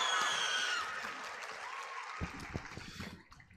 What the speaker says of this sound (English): Let's give another round of applause to Elliot.